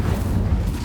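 A fiery Incendio spell bursts in Hogwarts Legacy, a dense, loud whooshing roar with deep rumbling low end that sustains steadily for under a second, with no voices.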